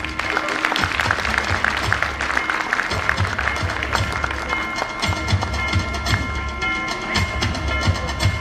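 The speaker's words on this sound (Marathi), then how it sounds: "जेवढे जेवणार आहोत त्याच्यापेक्षा जास्त टाळ्या तरी वाजल्याच पाहिजे." A crowd claps at a Kokan honours ceremony, bursts of clapping and tapping with uneven rhythm running throughout, mixed with low thumps and a busy hall ambience.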